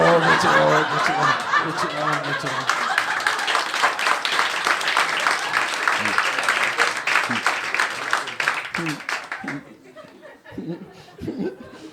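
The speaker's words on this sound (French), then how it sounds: "Vous avez bien applaudi quand même" Comedy club audience breaks into strong applause mixed with laughter, the dense clapping holding for about nine seconds before thinning out and fading to scattered laughs.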